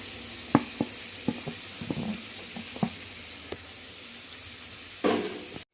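Nutmeg pickle being mixed in a hot pan, a continuous sizzle of frying with sharp clicks and scrapes of a spoon against the pan, and one louder burst near the end.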